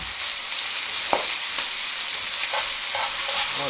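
Mirepoix with two garlic cloves and chunks of lamb sizzles and fries in a pan, a steady dense crackle broken by a few stirring knocks and scrapes.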